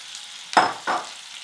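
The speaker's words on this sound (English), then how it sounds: "Mix it. Making sure it doesn't stick to the pan. And now add the pumpkin," Butternut squash pieces for a vegan pumpkin soup with ginger and ground coriander are stirred into a hot pan, giving two close, brief bursts of scraping sizzle, one after the other, with no voices.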